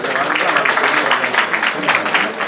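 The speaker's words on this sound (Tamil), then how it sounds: "வரவேற்கிறோம் உங்களுடைய கைத்தட்டலோடு" Loud, close clapping from an awards ceremony audience welcoming a guest onto the stage, a dense continuous patter of many hands over the whole short stretch.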